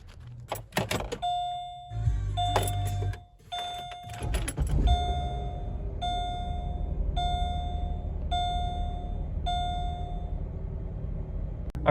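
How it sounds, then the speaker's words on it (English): A lowered Chevrolet Malibu Maxx starts up after door and key clatter, then its engine idles with a steady low hum while a door-open chime repeats in a regular pulse. "we're gonna go do a test drive of the Malibu through some curvy roads"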